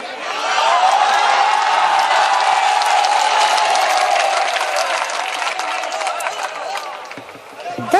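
A standing audience at a poetry recitation gathering claps and cheers in a long, dense burst of applause that holds loud for several seconds before tapering off near the end.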